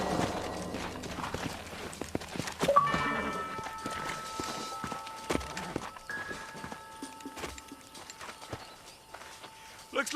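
Horse hooves clip-clop in the Red Dead Redemption video game, a series of sharp, close hoofbeats slowing to a halt, with people talking over them and background game sounds.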